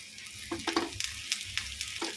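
Kuzhambu masala with chilli powder sautéing in a pan for a dry ginger and pepper kuzhambu, giving a soft, steady sizzle with a few light stirring scrapes. No one speaks.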